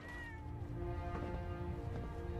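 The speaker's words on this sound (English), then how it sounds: "Kitten!" A kitten in the video game Fallout 4 gives a short, clear meow over steady ambient hum and tonal background sound, close and distinct.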